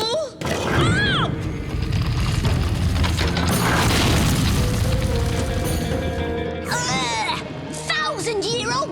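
Cartoon-style explosive booms from ancient thousand-year-old guns firing, loud and continuous with crashes and thuds, mixed under excited shouting voices and music.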